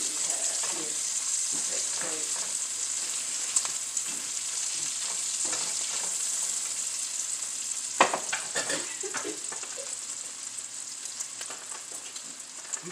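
Green beans and potatoes fry in a pan with a steady broadband sizzle, broken by louder scraping clatters as they are stirred, clustered around the middle and fading slightly toward the end.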